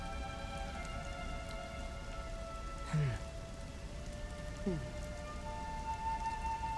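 Rain patters steadily in the Dragon Quest 11 video game, a soft continuous hiss beneath sustained musical tones, with a couple of brief voice-like sweeps rising out of it.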